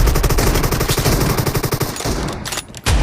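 Rapid automatic gunfire from a multiplayer shooter video game in a team deathmatch set in a warehouse, with sustained loud bursts and fast repeated shots that break off briefly near the end before another blast.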